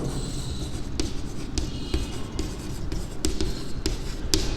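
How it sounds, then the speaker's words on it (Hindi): A pen scratches across paper in a run of short strokes and taps, close and distinct against a low background rumble, while working a commerce maths problem on cash discount. "तो मैं यहाँ पे लिखता हूं नाउ"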